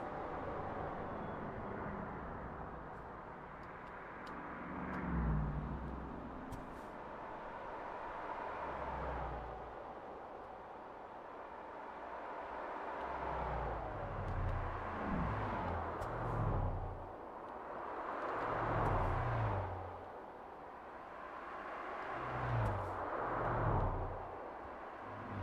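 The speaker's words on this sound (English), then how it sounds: "The new traffic sounds sound great." Highway traffic in the game American Truck Simulator, a continuous engine and road drone with vehicles swelling and fading as they pass at intervals, moderately loud and without talk.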